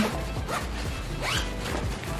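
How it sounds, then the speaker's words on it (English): A zipper pulled closed on a packing cube full of stacked sandals, with a few quick rasping strokes close to the microphone amid rustling of the fabric and light handling noise. "And then I can just zip that up."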